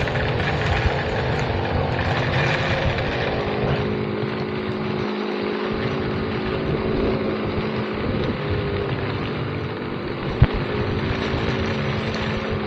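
Steady roaring engine and wind noise of a motorcycle riding through a rainy, windy typhoon, a continuous loud drone with rushing air and one sharp knock near the end.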